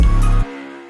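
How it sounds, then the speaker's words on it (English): Piano pushed through heavy distortion so it takes on a brassy, horn-like tone, one loud sustained note cluster that drops off abruptly and leaves a thinner ringing tail, no voices. "So it's just a piano running through tons of distortion."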